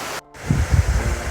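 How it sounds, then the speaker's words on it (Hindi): Steady broad rushing of the Gethichera waterfall near Laxman Mandir in Pauri Garhwal, filling the clip apart from a brief dropout, with low gusty rumble like wind on the microphone. "तो झरने को पीछे छोड़ते हुए"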